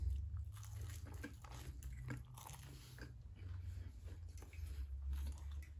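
Close, crisp biting and crunching into a big slice of Stella pizza, followed by steady wet chewing, quiet and intimate with no talking over it.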